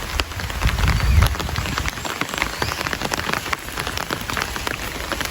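Heavy rain pounds steadily on a surface nearby, a dense, loud, continuous hiss scattered with individual drop impacts, with no voices.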